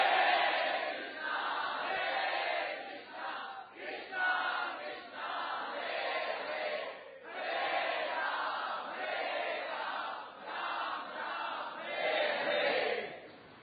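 A crowd chants the holy name together in a devotional gathering, a steady sung wave of many voices rising and falling in phrases, fairly close and continuous with slight swells, no separate speech above it.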